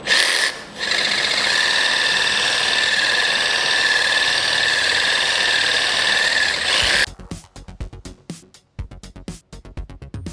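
A reciprocating saw fitted with a Reciprotools RCT-5PC-MM wire brush scrapes old paint off a surface with a loud, steady, close buzzing rasp for about seven seconds, then cuts off into scattered scrapes and clicks.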